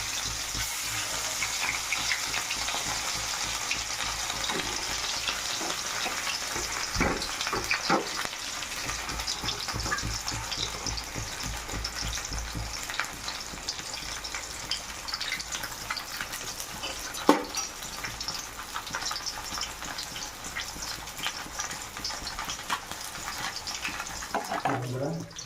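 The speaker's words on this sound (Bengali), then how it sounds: "মাছ ভালো করে ভেজে নিতে হবে" Fish frying in mustard oil in a pan: a steady, dense sizzle and crackle runs throughout at moderate loudness, with occasional louder pops and faint handling noises, and no talk.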